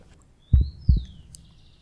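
A human heart beats twice, low and soft, each beat a paired thump, with a faint thin tone above it.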